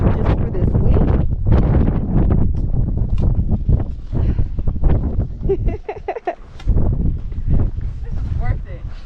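Strong gusting wind buffets the microphone while climbing Mount Fuji, a loud continuous low roar that runs throughout with a brief lull partway, and a person talks over it.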